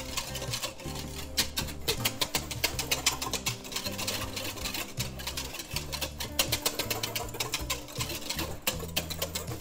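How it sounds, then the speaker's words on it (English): Yogurt and milk are whisked together in a bowl, producing a fast, steady patter of close metallic clicks over a low tonal hum that continues throughout. "make sure you whisk really well the yogurt and the milk"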